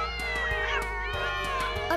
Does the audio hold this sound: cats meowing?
yes